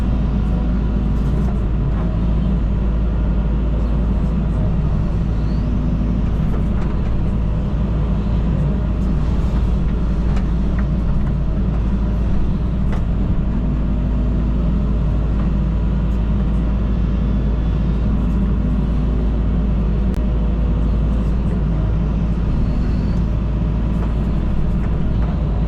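A John Deere 130 hydraulic excavator digs a new river channel, its engine a loud, steady low rumble with constant grinding texture throughout, no pauses.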